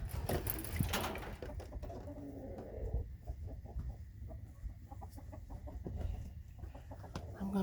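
Chickens cluck inside a chicken coop in winter, with scattered soft clucks and rustling, fairly quiet and close, alongside a few bumps of handling noise.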